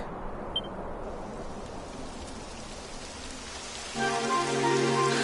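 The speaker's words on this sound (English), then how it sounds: "It would have to go and start raining, wouldn't it?" Steady rain patters on a surface in the video game Dragon Quest 11, soft at first and then growing heavier and denser in the last second or so, with no voices.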